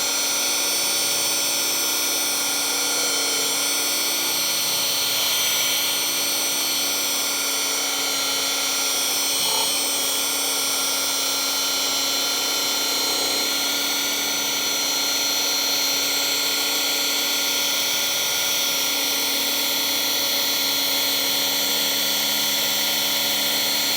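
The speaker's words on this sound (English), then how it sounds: "As often as you can, you want to hold the polisher flat." A polishing machine cuts scratches out of soft black car paint with a continuous high-pitched whine and steady tonal hum, close and loud throughout, with no talk.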